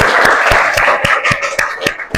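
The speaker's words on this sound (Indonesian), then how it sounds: "tepuk tangan untuk Raffi." Students in a classroom clap for a classmate after a lesson presentation, a steady patter of hands with sharper individual claps standing out, fairly close and loud, with no talking over it.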